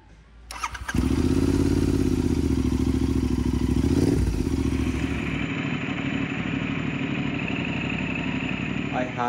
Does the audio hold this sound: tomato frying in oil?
no